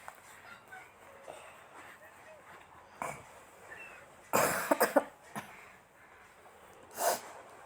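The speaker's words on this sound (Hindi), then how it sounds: "इतनी खांसी हो रही है मुझे" A woman with a bad chest cough lets out a few short, harsh coughs close by in a quiet room, one burst in the middle and another near the end, with soft movement noise between.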